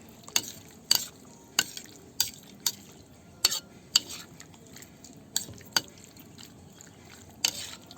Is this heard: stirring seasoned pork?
yes